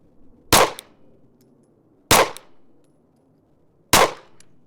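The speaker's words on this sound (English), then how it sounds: "All right, SIG macro with the flat trigger." Three sharp, loud gunshots from a SIG Macro handgun with a flat trigger, fired one at a time about two seconds apart, each cracking out and fading quickly over a faint background hum.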